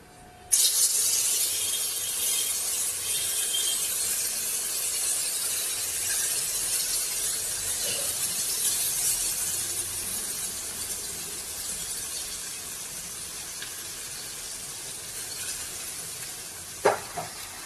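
Spice paste for potato curry hits hot oil in a pan and erupts into a loud, steady sizzle that slowly softens over many seconds, with a brief clink of a utensil near the end.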